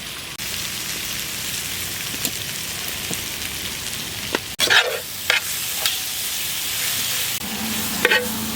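Chicken liver fries with crushed dried chilli pounded in a stone mortar, for a Chettinad-style fry: a steady, close sizzle runs throughout, broken by a few louder spatters and stirring scrapes midway.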